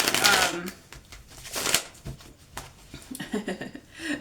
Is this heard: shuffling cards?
yes